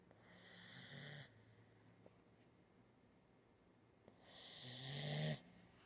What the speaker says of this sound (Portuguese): olha como ela tá roncando.